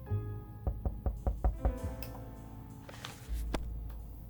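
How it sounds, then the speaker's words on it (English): A run of about six sharp door knocks in the survival game 60 Seconds, close and evenly spaced, then a few softer thuds and a low tone, with no talk. "there's a knock"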